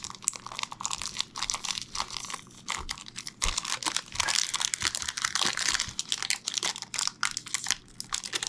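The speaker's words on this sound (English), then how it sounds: "let's get the plastic wrap off the puzzle" Plastic wrap being pulled and peeled off a boxed puzzle, with close, irregular crinkling and crackling bursts that come in rapid clusters and short pauses.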